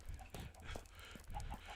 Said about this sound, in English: No, single file chickens is funny.